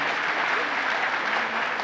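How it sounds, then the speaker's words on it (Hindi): Dense, steady applause from an audience of children and adults welcoming a Jain monk at a school honouring ceremony, many hands clapping together close by, continuous and loud for the whole short stretch. "तो जोरदार ताली बजा करके स्वागत करो"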